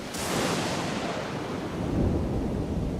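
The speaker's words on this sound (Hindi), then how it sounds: "रात में समुंदर पर एक जबरदस्त तूफान आ जाता है।" A violent thunderstorm over the sea at night: a sudden burst of thunder and heavy rain with wind breaks in and continues as a loud, dense roar, swelling again near the end, with no talk.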